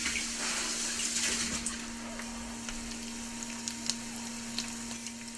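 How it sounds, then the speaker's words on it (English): Hands being washed under a running kitchen tap: a faint, steady stream of water with light splashing, a low hum beneath it and no talking. "let me wash my hands"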